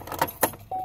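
Keys jingle and clink in short bursts close by, followed by a brief mechanical click and a steady hum, suggesting a vehicle door or lock nearby.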